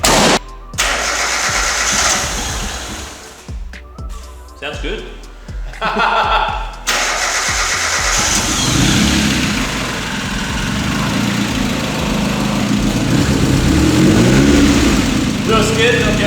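After some nearby talk, a car engine cranks and roars to life for its first startup, with a lifter tick, then settles into a loud, steady idle close by as voices continue.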